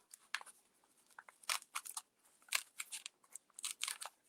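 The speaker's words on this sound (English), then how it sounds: "And I do that just by piercing through the paper" A ballpoint biro punches dot after dot through paper into a foam backing, giving a run of short, crisp crunchy taps at an uneven pace, close and fairly quiet, with no voices.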